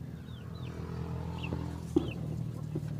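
Backyard free-range chickens, including Black Australorps, native Bisaya hens and Rhode Island Reds, cluck and call in short scattered bursts over a steady low farmyard hum.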